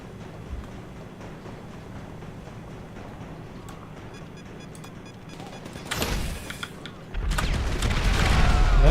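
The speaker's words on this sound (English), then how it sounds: "That's a lot of explosions." Explosions in GTA Online's Survival mode: a steady bed of distant gunfire and rumble, then two loud, sharp booming blasts close together near the end.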